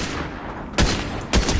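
Gunfire in the Fortnite video game: two sharp, loud broadband bursts cut through a steady background of game noise, close and forceful, with no talk over them.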